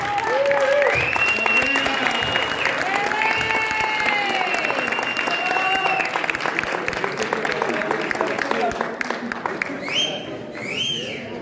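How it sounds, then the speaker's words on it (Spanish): A concert audience breaks into applause with crisp clapping, whistles and cheering voices mixed in; the clapping swells, then gradually thins out toward the end. "no he escuchado el aplauso para Andrea"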